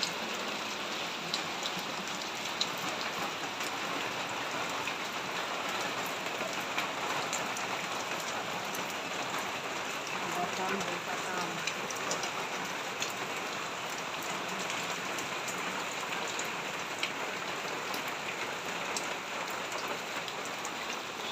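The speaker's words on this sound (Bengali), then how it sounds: "সকালে সকালে অনেকটা বৃষ্টি দিচ্ছে, বৃষ্টি নেমে হচ্ছে" Heavy morning rain pours down steadily around a riverside village house, a dense, even hiss of drops on surfaces that carries on without a break and with no voices.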